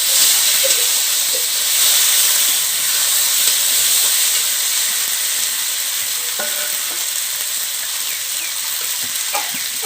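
Chopped tomatoes sizzle loudly in fried masala for a village-style fish curry, a continuous, close hiss with scattered light clicks and taps of stirring toward the end.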